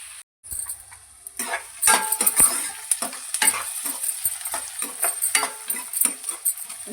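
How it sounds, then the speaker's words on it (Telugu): Onions fry in oil for an egg curry, with a steady sizzle overlaid by irregular scraping stirring strokes against the pan, close and fairly loud. "ఉల్లిగడ్డ అయితే బాగా వేగిపోయింది"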